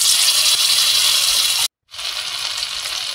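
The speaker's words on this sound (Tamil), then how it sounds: "நம்ம ஏற்கனவே கிளறின சிக்கன் 65 எடுத்து நம்ம எண்ணெயில் போட்டுக்கலாம்." Chicken 65 frying in hot oil in a tiny miniature kitchen set, a loud, dense, close sizzle that cuts out briefly and then resumes just as strongly.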